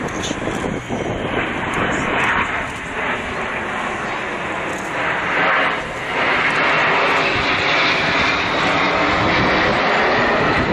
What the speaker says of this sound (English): The Red Arrows fly the BAE Systems Hawk T1